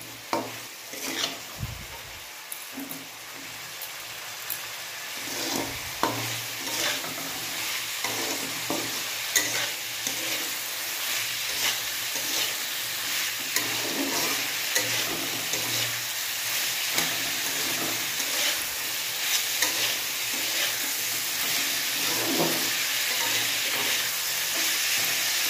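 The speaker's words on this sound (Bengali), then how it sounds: "এবার আমি এর উপরে হলুদ দেব, নুন দেব, দিয়ে এটা নাড়ব।" Potatoes and onions frying in a pan with turmeric and salt, a steady sizzle that grows slightly louder as a utensil scrapes and stirs at irregular intervals.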